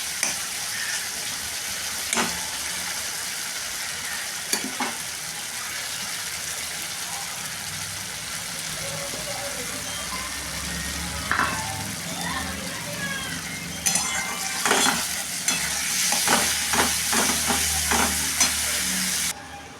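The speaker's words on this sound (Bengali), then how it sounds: "আর তার সাথে মশলাটা কষিয়ে নিয়ে ভালো করে মাছগুলো এর মধ্যে ছেড়ে দিয়ে জাস্ট নাড়াচাড়া করবো।" Fish pieces stirred into masala frying in oil for a sweet Bengali katla kalia, a continuous sizzle with intermittent spoon scrapes and knocks that grow busier toward the end, with a voice speaking over it.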